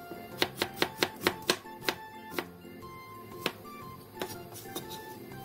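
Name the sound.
knife slicing half an onion on a board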